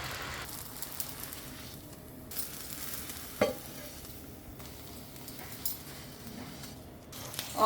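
Golar ruti flatbread fries in a pan with a soft, fairly faint sizzle, broken by occasional clinks and stirring scrapes, and a dog whimpers briefly in the background.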